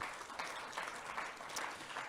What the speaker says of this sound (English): Let's give a big round of applause for Nathan.